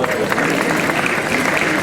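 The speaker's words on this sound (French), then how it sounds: "Je vous demande d'applaudir s'il vous plaît." Audience at a charity solidarity gala in Courbevoie applauding, a continuous wash of claps and crowd noise filling the room, loud and steady throughout with faint voices mixed in.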